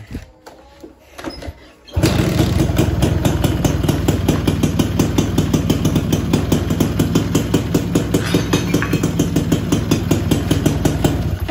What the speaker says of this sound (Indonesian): Tapi untuk knalpot mesin coba kita coba.